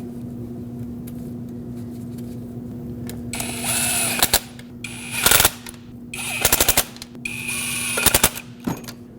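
A power tool runs in short bursts while bolting a fuel rail onto a Lexus IS250 engine in a garage, with rapid rattling whirs over a low steady hum.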